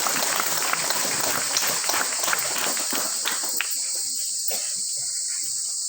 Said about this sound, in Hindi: आइए हम जोरदार तालियां बजाकर ईश्वर को धन्यवाद दें